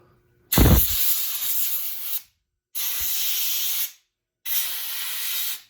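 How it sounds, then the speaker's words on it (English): Compressed air blasts out of a nozzle to clear gunk from disassembled parts of a clogged Harbor Freight pressure washer foam cannon, coming as three loud, steady hissing bursts of about one to two seconds each, separated by short pauses. "So I've got some compressed air here. We'll just kind of clean these parts off."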